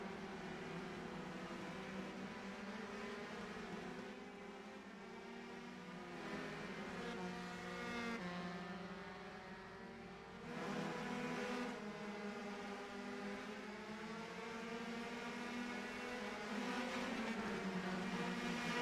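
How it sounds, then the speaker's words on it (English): Race cars lapping the Martinsville short track, a steady droning engine note that rises and falls as the cars circle, heard at a distance without talk. "A quick lap around with Pettigrew."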